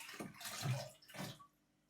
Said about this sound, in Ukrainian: Наливаємо свіженьку.